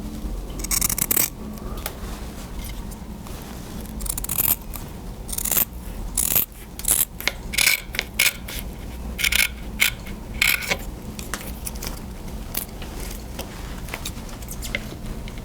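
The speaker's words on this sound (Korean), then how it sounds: "가위로 맞게 잘라주면 됩니다." Scissors cut road bike handlebar tape, a run of close, crisp snipping and crunching clicks in irregular bursts, some louder than others, with no talking.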